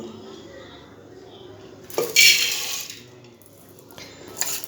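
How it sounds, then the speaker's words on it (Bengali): Toor dal tipped into a pressure cooker in a home kitchen, giving a brief rattling rush of grains against metal about a second long, set against a quiet room. "কুকারের মধ্যে আমি তরকার ডালটা ঢেলে দেবো"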